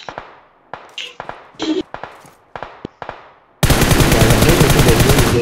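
Gunfire in PUBG Mobile: a run of sharp single shots at a loose rhythm, then a sudden loud, dense burst of continuous firing.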